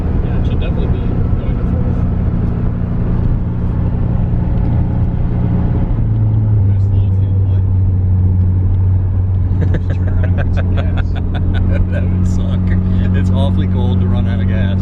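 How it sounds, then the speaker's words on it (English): The Jafromobile Project Eclipse car driving under load, its engine droning loudly inside the cabin and changing pitch as it shifts gears, with people talking over the steady hum. "the car shifts and we're driving it"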